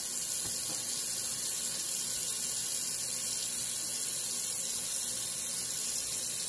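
Tap water running steadily into a bathroom sink during handwashing, a constant close rushing hiss with no pauses and no voices.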